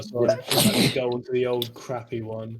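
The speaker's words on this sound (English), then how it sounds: "it is a sneezy day" A single sharp sneeze bursts out amid casual indoor chatter at a computer, with people talking before and after it.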